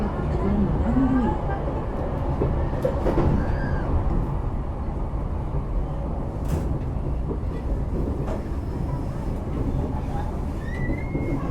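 A KAI Commuter train, a former Tokyo Metro 6000 series set on the Cikarang to Angke run near Tanah Abang station, rumbles steadily from inside the carriage, a loud continuous roar with faint squeals and a public announcement voice over it.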